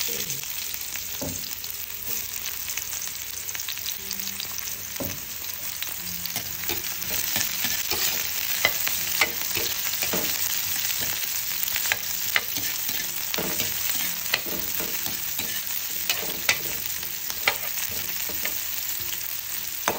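Chopped onions fry in a pan for a ginataang gabi with corned beef, giving a steady, soft sizzle with scattered crackles and an occasional stir or scrape.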